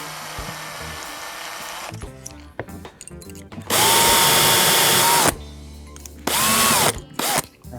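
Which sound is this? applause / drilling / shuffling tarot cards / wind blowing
drilling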